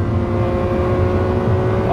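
A Lamborghini Countach on the Autobahn gives a loud, close engine drone that holds steady through a brief stretch before a rising rev creeps in at the end.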